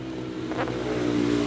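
A motorcycle engine drones steadily in the background at moderate distance, a continuous low rumble with no voices over it.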